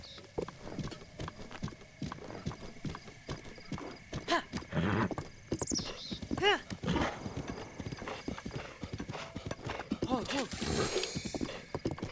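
In The Legend of Zelda: Breath of the Wild, a game horse clip-clops along with quick rhythmic hoofbeats and lets out several whinnies, all close and clear, while a person talks over the gameplay.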